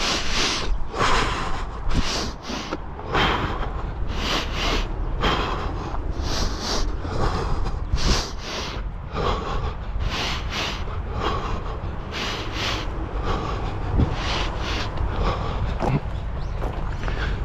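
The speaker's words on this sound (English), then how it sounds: "we did our breathing, so let's breathe." A runner breathes hard and rhythmically after a run in Tokyo, with close, regular puffs repeating about every second for the whole stretch and light background noise beneath.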